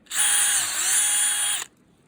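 A power drill bores a hole into a tree trunk for sap tapping, a single steady high-pitched whine lasting about a second and a half before cutting off abruptly, close and loud.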